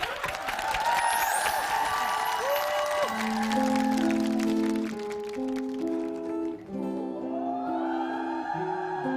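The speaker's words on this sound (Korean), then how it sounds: "그럼 박수로 맞으시기 바랍니다." A studio audience on the Korean TV show Star King applauds to welcome performers, a dense wash of clapping that soon sits under swelling music with sustained tones.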